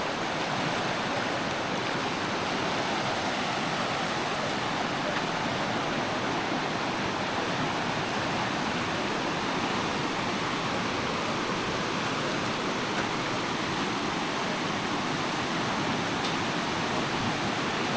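A river in a remote rural area of the Philippines flows steadily, a constant broadband water rush that stays even and unbroken throughout with no voices.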